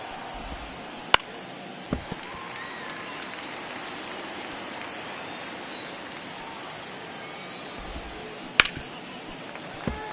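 A baseball stadium crowd in MLB The Show 24 gives a steady wash of cheering and clapping, broad and distant, punctuated by a couple of sharp bat-like cracks.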